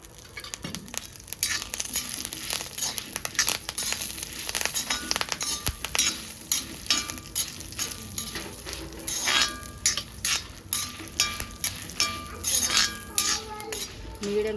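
Dried shrimp fry in a spoonful of oil with curry leaves over medium flame, a steady sizzle under frequent metal spoon scrapes and clinks against the pan, close and continuous.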